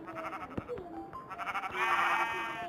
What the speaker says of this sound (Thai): แกะน้ำตาลด้วย